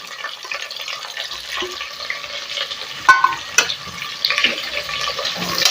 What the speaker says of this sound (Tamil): இப்போ கட் பண்ணி வச்சுருக்கிற 2 பெரிய வெங்காயத்தை போட்டுக்கலாம்.